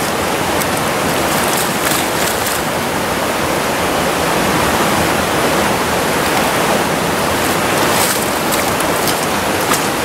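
A small stream runs steadily where a wild brown trout is being released, a loud, continuous rushing of water close by with no voices.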